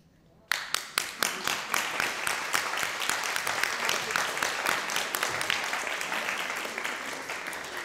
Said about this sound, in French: Encore plus fort, les applaudissements.